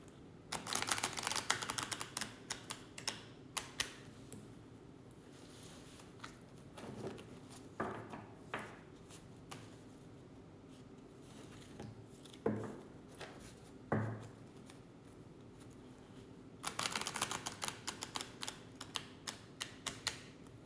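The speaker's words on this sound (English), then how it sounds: "Okay, so shuffling the deck." Cards riffle and snap in quick bursts, with quieter pauses and a few soft taps between shuffles, close by.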